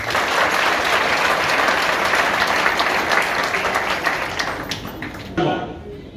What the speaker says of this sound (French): que je vous prie d'applaudir encore